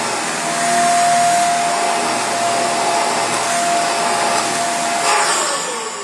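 A Dirt Devil 360° Reach Pro bagless stick vacuum runs steadily on upholstery, a loud continuous motor whine with a steady tone, its pitch dipping slightly near the end.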